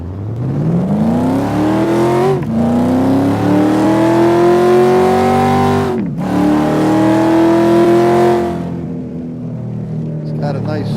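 A car engine revs loudly and steadily, its pitch climbing in two long sweeps, each dropping sharply before rising again, then the engine eases off near the end; the car is at an OZA Motorsports session and turbo settings are being adjusted.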